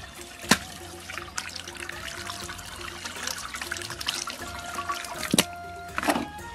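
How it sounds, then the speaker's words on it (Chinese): Water runs and trickles over a cleaned soft-shell turtle being washed, a steady close splashing stream with a few sharp knocks and clatters, no talking. "处理好的甲鱼清洗一下"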